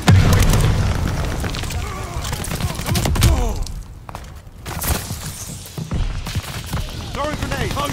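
A grenade blast in Call of Duty Vanguard, a loud booming burst amid ongoing gunfire and combat noise, with voices calling out over the fight.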